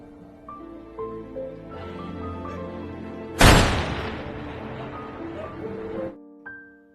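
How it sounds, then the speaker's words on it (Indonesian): A single loud gunshot cracks out over a sustained musical score, its broadband blast decaying for a couple of seconds before the music cuts off. "Dan film pun berakhir dengan suara tembakan"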